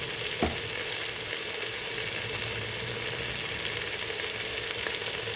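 Chicken curry masala with turmeric frying in a pan, giving a steady, close sizzle with one sharp clink early on and no talking.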